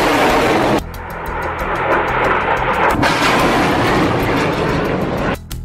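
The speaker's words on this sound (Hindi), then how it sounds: "हमास एक के बाद एक 10 रॉकेट फायर करता है" Hamas rockets launch one after another in quick succession, a loud, sustained roaring blast that rises sharply, surges again midway and cuts off abruptly near the end.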